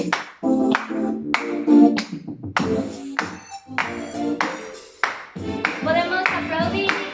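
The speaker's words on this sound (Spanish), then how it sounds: "Vamos a aplaudir con nuestros pies" Several people clap their hands in a loose rhythm of separate bursts along with a children's song, with some foot stomping mixed in and singing or talking over the claps.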